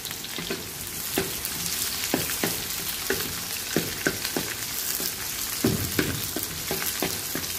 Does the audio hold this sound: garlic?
yes